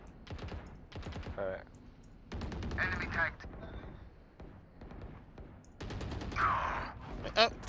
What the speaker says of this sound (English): Shoot the turret, shoot the turret.